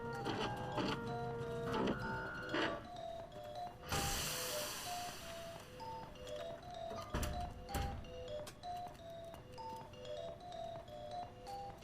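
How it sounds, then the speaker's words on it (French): In the Watch Dogs 2 video game, a 3D printer makes weapons: mechanical printer whirring and thunks with a burst of noisy spray, layered over game music tones and effects. "on va s'imprimer des armes"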